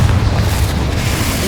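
Confringo explosive spell from the Hogwarts Legacy video game, a loud, dense boom of blast noise filling the whole moment with sustained low rumble.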